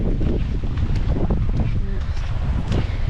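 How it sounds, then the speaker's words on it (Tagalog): Strong wind roars in a continuous, loud buffeting rush against the microphone during a rainy boat trip toward Tinagong Dagat in Sipalay City, Philippines. "Usog na yung hangin"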